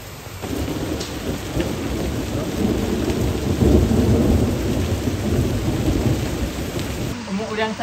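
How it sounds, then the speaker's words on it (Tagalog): Heavy rain and hail pounding outside during a thunderstorm, a loud steady roar with deep rumbling thunder swelling through the middle, continuous until it cuts off abruptly near the end. "Umuulan sa labas ng"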